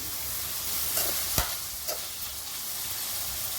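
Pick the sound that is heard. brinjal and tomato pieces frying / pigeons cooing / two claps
brinjal and tomato pieces frying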